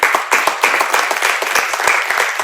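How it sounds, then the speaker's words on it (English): An audience at a Columbia University speech event breaks into loud, steady applause, with many hands clapping in a dense, even patter close by for a few seconds. "Give a big round of applause."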